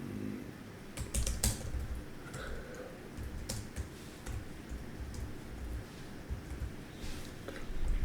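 Fast keystrokes on a computer keyboard come in bursts and irregular clatters, with quiet gaps and light rustle in between.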